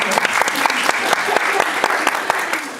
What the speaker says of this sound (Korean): 장인이자 극한 직업을 계속하고 계시는 대단한 명에 박수 한번 주시기 바랍니다.